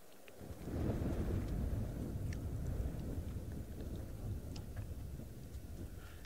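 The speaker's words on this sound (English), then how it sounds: "It's very windy" Strong wind roars steadily on a safari, buffeting loudly with low rumbling gusts and no voices.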